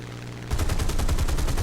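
A Spitfire's machine guns rattle in a sustained rapid burst at a B-17 bomber in the War Thunder combat flight game, loud and close, cutting in abruptly after a brief engine drone.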